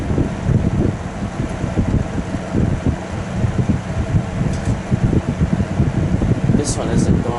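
A GE F11T4 window fan runs nearby with a loud, steady whir and a gusty, buffeting airflow throughout.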